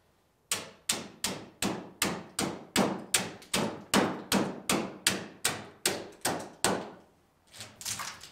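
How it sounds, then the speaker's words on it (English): A hammer knocks chips off a wooden surface in about fifteen sharp, evenly spaced blows, loud and close, with no talk over them. "Use a hammer, knock all the different chips out"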